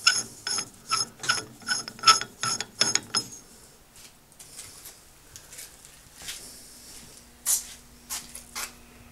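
A mercury retort being unscrewed, a series of close ratcheting clicks in quick bursts, then quieter scraping and metallic rubbing with occasional louder clinks.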